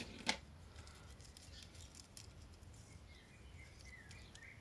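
Scissors snip paper for a handmade wedding congratulations card, one sharp close cut at the start, then quiet handling and faint light rustles.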